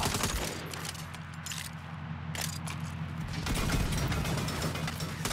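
Rapid turret gunfire from the Saints Row video game, a dense continuous burst of automatic shots with mechanical rattling, loud and close, running steadily with a brief lull midway.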